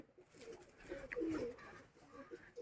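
Pigeons coo softly nearby in a few low, rounded calls, with faint background noise around them.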